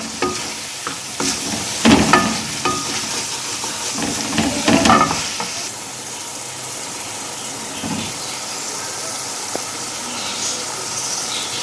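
Karahi masala with ginger powder and green chillies frying and being stirred in a wok, steady sizzle under bursts of spoon scraping, busier in the first half then settling into a softer continuous hiss.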